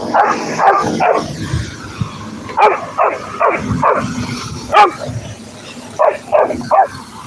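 A dog barks repeatedly in short bursts and clusters, with brief pauses between volleys, fairly close.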